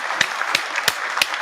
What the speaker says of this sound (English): Let me give the round of applause here first and foremost.